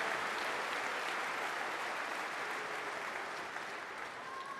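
Broad, continuous applause from a large crowd at the Invictus Games 2022 closing ceremony, heard as a distant, even wash that fades slightly toward the end.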